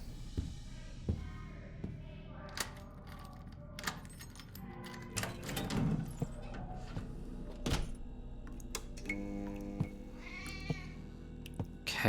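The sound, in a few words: cat meowing in the video game The Operator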